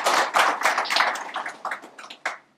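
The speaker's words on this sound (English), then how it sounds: "So just a round of applause for them once." Scattered clapping from an audience at the Seagull Chennai inauguration, honoring the company's employees; sharp, uneven claps that thin out and fade over a couple of seconds.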